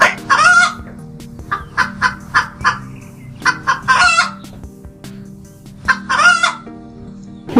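A rooster crows repeatedly in several loud, close bursts, interspersed with shorter clucking and fowl calls over a steady low background hum.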